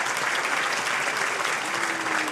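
A crowd at a ceremonial Ljubljana city council session applauding to welcome the host, Mayor Zoran Janković, with dense, even clapping that holds steady and loud throughout.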